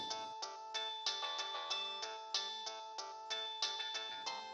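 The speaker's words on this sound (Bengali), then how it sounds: "এত রাতে কে ফোন করছে?" A phone ringtone plays a repeating melodic pattern of bright electronic notes in a steady rhythm, fairly quiet, with nothing else heard.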